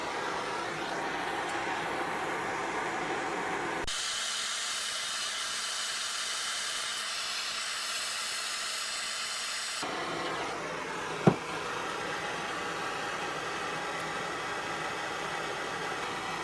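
A heat gun blows a steady, even hiss of hot air over plastic to soften it for bending, its tone shifting once partway through, with a single small click and no talk.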